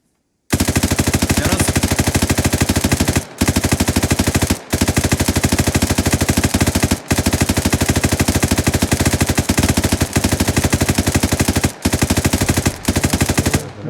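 Sustained, loud automatic gunfire in long rapid bursts, broken by a few brief pauses, with nothing else audible over it.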